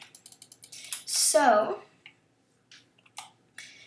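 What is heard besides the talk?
clicks of a new computer keyboard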